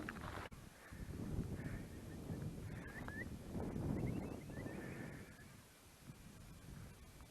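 Distant flock of birds calling on a countryside hike, repeated short cries scattered over steady low rumble of wind and movement outdoors.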